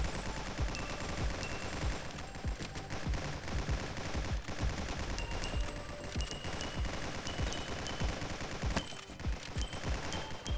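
Rapid, dense gunfire from the sci-fi video game Nimrods rattles continuously with overlapping bursts over a loud game soundtrack, steady and unbroken throughout.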